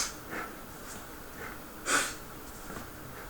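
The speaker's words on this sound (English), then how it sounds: "Sorry for the sniffling. Had a cold the last couple days." Several faint sniffles from a nose stuffed up by a cold, short separate bursts with one stronger snort-like sniff near the middle, in a quiet room.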